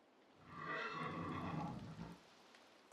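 A horse in the game Wartales gives a single clear whinny, rising and wavering for about a second and a half before trailing off, fairly close and alone with no talking.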